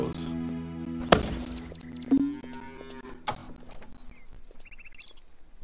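Cattle mooing inside the farming simulation game Farmer's Dynasty, a few low drawn-out moos rising over soft in-game ambience and music, moderately loud and close.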